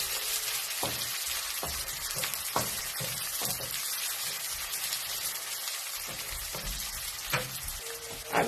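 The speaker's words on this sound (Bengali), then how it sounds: "এখন আমি এক এক করে বাকি মশলাগুলো দিতে থাকবো আর এভাবে পেঁয়াজ ভাজতে থাকবো" Onions with spices frying in a pan for a prawn bhuna, a quiet continuous sizzle punctuated by a regular series of short spatula knocks and scrapes, close by, with no speech.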